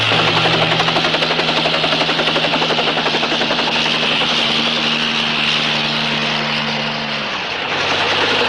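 Helicopter running close by with a loud, steady rotor thump and engine whine, the pitch of its low drone shifting slightly near the end, and no speech over it.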